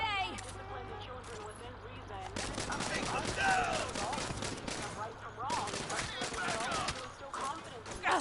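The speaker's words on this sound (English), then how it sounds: "I'm about to shoot this guy." Gunshots in the video game Saints Row, with bursts of rapid shots across most of the stretch over game noise, while a voice talks along at the same time.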